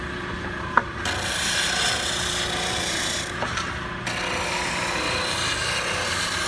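Steady abrasive whirring of a spindle sander grinding against wood, continuous and close, with brief pauses as the piece shifts.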